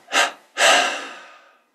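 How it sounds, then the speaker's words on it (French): Breath is pushed out in separate bursts during a meditation breathing exercise: a short, sharp exhale followed by a longer one that fades away, both close and breathy, with no speech. "Expire en 3 fois."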